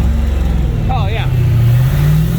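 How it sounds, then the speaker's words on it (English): A Fox Body Mustang fitted with underdrive pulleys revs up, its engine droning steadily and loud close by while a voice speaks briefly over it. "Rev it up a little bit"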